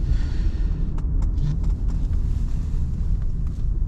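A 1991 Cadillac Coupe DeVille V8, front-wheel drive with 47k original miles, braking hard on the road: a steady low rumble of engine and road noise from inside the car, with a few light clicks.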